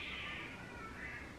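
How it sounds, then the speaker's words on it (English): Wild cats crying out, a brief, steady, high-pitched wail heard from some distance with no voices over it. "The cries of some wild cats"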